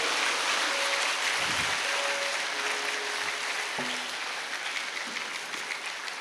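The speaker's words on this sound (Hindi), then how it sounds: "एक बार सब एक दूसरे के लिए तालियों की गड़गड़ाहट कर" Audience applause at a Vihangam Yoga spiritual satsang gathering, a steady wash of many hands clapping together throughout, with a few brief faint tones over it.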